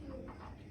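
Pigeons at a breeding farm give a short, low coo over a steady background hum, close and fairly quiet, lasting under a second.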